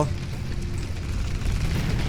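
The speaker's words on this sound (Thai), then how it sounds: "โอ้เครื่องบินระเบิด" Plane explosion in the Pacific War video game Medic, a sustained low rumbling boom with heavy bass roar filling the whole moment, steady and loud without sharp attacks.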